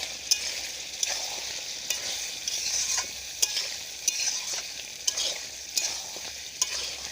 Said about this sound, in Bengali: এবার আমি একটু নেড়ে চেড়ে দিই।